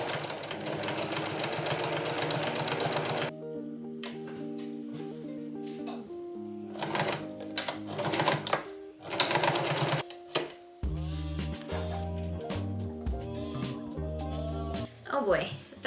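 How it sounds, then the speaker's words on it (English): Home sewing machine stitching a fabric book pouch, running in loud rhythmic bursts that start, stop and restart, with short pauses between runs and brief talk in between. "the sewing machine kept mucking up with a little bobbin underneath"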